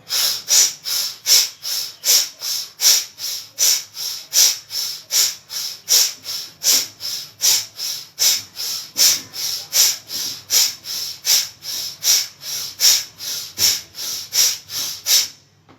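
Rapid, forceful pranayama breaths of a body-strengthening exercise, a steady train of about twenty sharp, close, hissing exhalations at an even, quick rhythm, with no talking.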